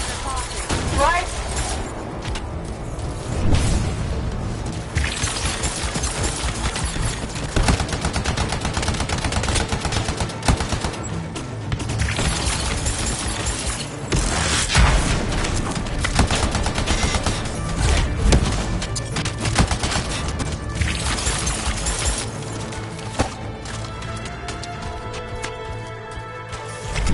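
Sustained gunfire and machine-gun bursts roar through a video game battle, dense and loud throughout with booms and crashes, while voices talk over the fighting.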